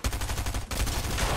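Rapid gunfire fills a video game match, with repeated loud sharp shots close up in a dense, steady volley, cut by one brief gap before the firing resumes.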